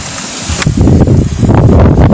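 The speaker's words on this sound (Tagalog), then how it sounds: "Oh, lakas hangin. Lakas." Loud, roaring wind by a river buffets the microphone, building after a moment into a constant heavy rumble with no voices.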